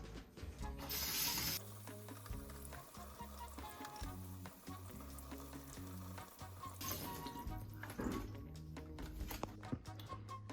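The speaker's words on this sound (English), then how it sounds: "Okay, I'm gonna wash the berries." Berries being rinsed under a running kitchen tap, with water splashing continuously into a sink for about ten seconds while background music plays over it.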